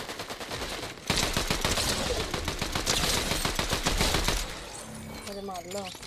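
Rapid bursts of gunfire in a Fortnite Zero Build match, dense crackling volleys running for several seconds and then dropping away, with players talking over the action.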